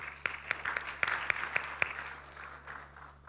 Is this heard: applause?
yes